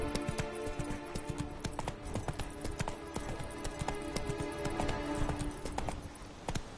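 Roach the horse trotting in The Witcher 3, steady clip-clop hoofbeats in even rhythm, close and continuous throughout.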